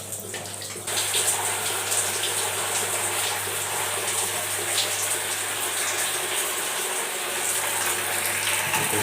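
Water spraying from a hose-fed pipe head to clean a Panasonic 1HP air conditioner indoor unit, a steady close rushing hiss that begins after a brief moment and runs continuously.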